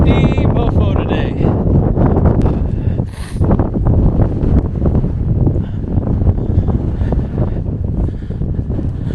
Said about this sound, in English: It's a windy mofo today.